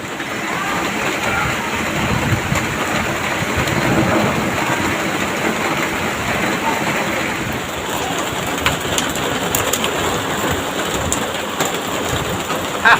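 Rain falls steadily in a forest, a loud, even broadband hiss that lasts the whole stretch, with faint birdcalls behind it.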